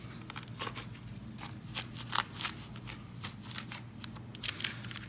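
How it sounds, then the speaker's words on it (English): A foam pool noodle is sliced to shape a LARP boffer weapon, giving a string of short, crunchy, squeaky cutting strokes close by, with no talking. "we'll cut a little bit of that off"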